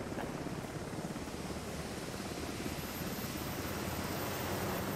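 Helicopter rotor and engine roar in the video game House of Ashes, a steady broadband drone that stays constant throughout with no talk over it.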